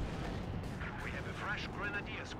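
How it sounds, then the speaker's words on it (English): Mortar shells land in the Company of Heroes 2 battle game, making dense, continuous rumbling blasts and crackling impacts; a voice talks faintly underneath. "What's falling here? Mortars."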